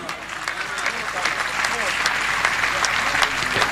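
Congregation clapping at a church service, steady dense applause from many hands with a faint voice over it.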